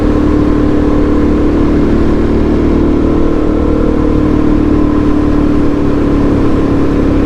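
Suzuki DRZ400SM supermoto motorcycle engine ridden fast through corners, a loud, steady droning hum under rushing wind throughout, close to the rider.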